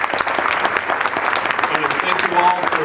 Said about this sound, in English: can we all please give the candidates a round of applause for doing this tonight?